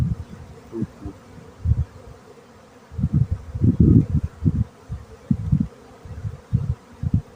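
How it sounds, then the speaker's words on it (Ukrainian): A honeybee colony hums nearby in the hive, its low buzzing rising and falling in uneven surges and dense clusters, with no voices. "Ну, гарні бджолосім'ї."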